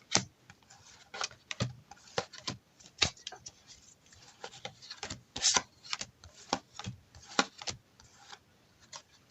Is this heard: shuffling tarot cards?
yes